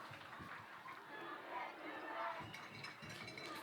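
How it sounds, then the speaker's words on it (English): Swampscott fans chanting together in the stands at a high school powderpuff football game, a steady distant roar of crowd voices with rhythmic shouted bursts. "we hear some vicious chants from the Swampscott crowd"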